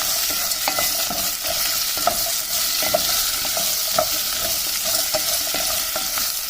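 Onions frying in oil for a stuffed chilli curry, a steady bright sizzle with scattered pops and spatula scrapes throughout, close and fairly loud with no talking.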